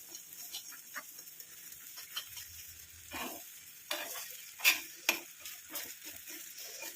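Gooseberries cook in oil for homemade hair dye oil, giving a quiet, even bubbling sizzle broken by scraping stir strokes and a few louder clatters toward the end.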